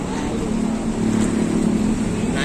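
A Scania K410IB bus with Adi Putro coachwork rumbles at a bus terminal, its engine giving a steady, low, close drone that swells slightly midway.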